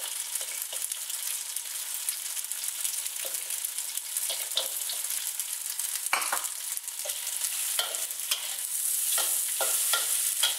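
Five spice tofu and lap chong stir-fry in a hot wok for chao hor fun, a steady sizzle broken by scraping stirs and clatters of the spatula, close up, with no talking.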